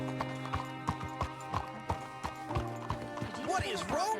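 Horse hooves clip-clopping in a steady galloping rhythm in the Western video game Red Dead Redemption 2, close and fairly loud over ambient music, with a horse whinny rising near the end.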